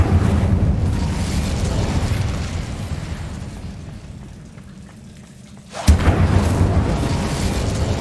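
Incendio fire spell cast in Hogwarts Legacy, a dense roaring whoosh of flame that dips briefly and then surges back with a sharp burst, loud and sustained throughout.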